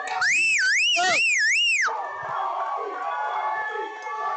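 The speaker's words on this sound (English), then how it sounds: "Listen to this crowd." Crowd at a cagefighting event, opening with a loud, wavering siren-like noisemaker, then shouting and cheering that carries through to the end.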